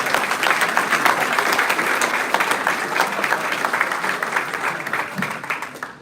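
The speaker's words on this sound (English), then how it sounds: "How about one more round of applause for the family?" Sustained round of applause from an audience at a college alumni awards event, dense even clapping from many people that holds steady and tapers slightly toward the end.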